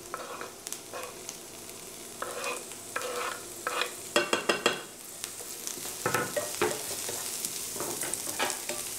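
Chorizo fries in olive oil with garlic and onion, a close, steady sizzle with frequent scraping stirs in the pan and a brief flurry of quick clinks midway.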